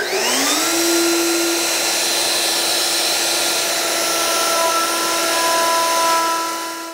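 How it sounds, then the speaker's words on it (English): A wood router rounds over the edges of walnut boards, a loud steady high-pitched whine that spins up at the start and holds continuously before starting to fade at the end, with no talking. "just got to round over the edges before we go to final sanding"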